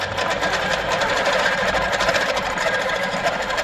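A Handi Quilter moveable longarm quilting machine stitches during a showroom demo, giving off a steady, rapid mechanical whir with fast, even needle pulses close by and no talking.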